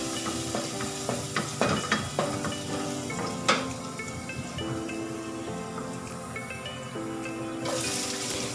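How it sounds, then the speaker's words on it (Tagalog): Garlic sautés in a pan for simple stir-fried asparagus, giving soft continuous sizzling with scattered stirring clinks and scrapes, close and fairly quiet, with no talking. "Nag-isa tayo ng bawang."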